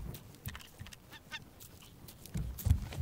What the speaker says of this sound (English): stupid seagulls